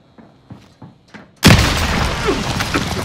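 A frag grenade explodes in Call of Duty: Modern Warfare. A few soft clicks and thumps come first, then a sudden loud blast that rolls into a long, dense rumble of debris and noise.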